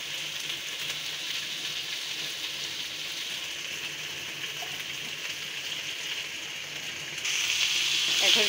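Washed dried fish fries in hot oil in a pan, a steady dense sizzle that holds evenly throughout and grows slightly louder near the end, with no talking.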